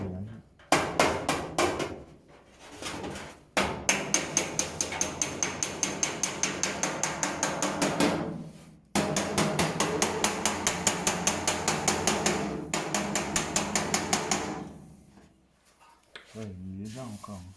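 Sheet metal of a 1958 Volkswagen Cabriolet front panel being hammered, long runs of rapid, evenly spaced ringing blows, loud and close, broken by short pauses.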